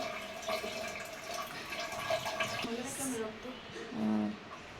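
Food items washed under running water in a home kitchen: a light tap stream splashes and drips at close range, with hands moving things about, while someone talks over it throughout.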